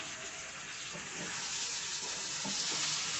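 Chicken liver frying in a pan gives a steady, bright sizzle with a few soft stirring knocks.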